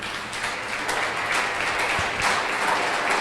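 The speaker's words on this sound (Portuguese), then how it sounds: "Você pode aplaudir forte o Senhor." A church congregation claps during a worship service, a dense, even wash of applause with a few sharper taps, sustained and fairly close.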